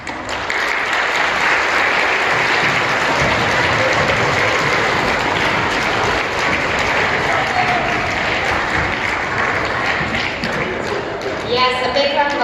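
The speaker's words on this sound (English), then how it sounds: "a big round of applause for Mr. Cunningham for putting that together" Applause fills a school assembly, sustained and full for the whole stretch, with many hands clapping at once and a voice speaking over it.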